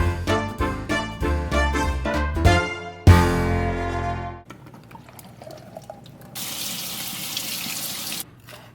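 Water running from a kitchen sink tap in bursts, then a steadier trickle and a rushing flow near the end, loud and close with some clattering, no talking.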